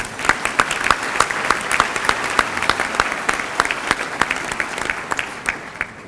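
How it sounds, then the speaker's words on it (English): Sustained audience applause at a school graduation ceremony for Lexington One School, a dense, steady wash of many hands clapping with sharp individual claps standing out, fairly loud throughout and gradually thinning near the end. "So let's give everybody one more round of applause, please."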